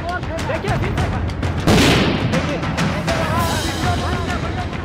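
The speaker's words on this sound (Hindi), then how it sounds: "तभी उसी घाटी पर एक और बम आ गिरा" A bomb goes off during a gang clash at the Deco outsourcing site in Chaitudih, a sudden broad blast roaring for a moment beneath continuous talking, amid a noisy, chaotic scene.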